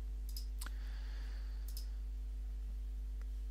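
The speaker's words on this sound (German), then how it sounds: "Ja, klicke jetzt mal auf OK und lasse es so." Mouse clicks on a Windows PC while setting up Gpg4Win encryption software: a few sharp, quiet clicks spaced out over a steady low electrical hum, with no talking.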